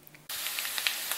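Potatoes hit a hot pan on an electric hotplate and break into a sudden loud, sustained sizzle of frying, crackling steadily with small pops after a quiet start.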